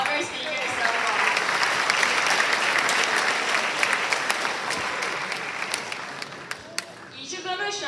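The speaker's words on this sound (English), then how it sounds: "Let's give another huge round of applause to all of our speakers so far." A conference audience applauds speakers with dense, sustained clapping that fades slightly toward the end, as a voice begins speaking.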